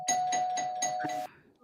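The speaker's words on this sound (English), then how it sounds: "Somebody ringing the bell." A doorbell rings with a rapid, repeated electronic buzzing chime, about five quick pulses over a steady tone, then stops abruptly.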